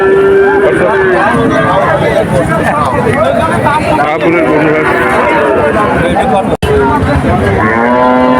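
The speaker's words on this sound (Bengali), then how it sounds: "এই গাই গরুটা কার?" Cows moo loudly and repeatedly amid a busy cattle market at Shahpur, with a crowd of people talking all around and one cow close by.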